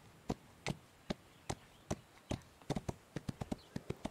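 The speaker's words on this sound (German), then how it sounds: "Wir traben mal ein bisschen durch die Gegend." Hooves of a horse trotting in the video game Ostwind, crisp clip-clop hits landing in an uneven rhythm that speeds up toward the end, clear and fairly close with no talking.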